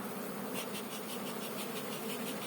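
Honeybees at an opened hive under heavy robbing in August, a steady dense buzzing swarm filling the air throughout, fairly close and continuous with no talk.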